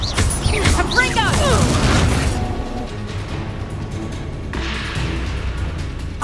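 Confringo explosive spell blasts in the Hogwarts Legacy video game: loud booming bursts with crackling debris in the first seconds of battle, then a lower rumbling ambience with scattered impacts and shouted spell calls.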